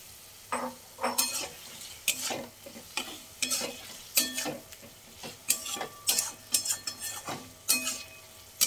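Boiled eggs go into hot oil for egg korma, and the pan answers with steady frying and a spatula stirring at a regular pace, bright scrapes clinking against the metal over a low hiss, with no talking.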